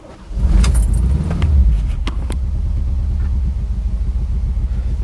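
A car engine starts from cold and settles into a steady, close, low rumbling idle after a brief jangle and clunk at the start, with no talk.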